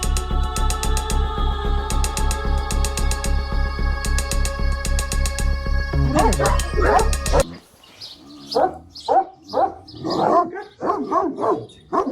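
Rhythmic music plays first, then stops abruptly and Kangal dogs snarl and bark at each other in short, rough bursts nearby at a breeding farm.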